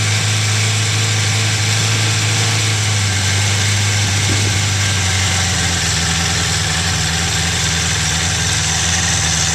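A Suzuki Katana 600 motorcycle engine idles steadily after a cold start, a loud, close, continuous hum with a slight dip in pitch midway and no voices.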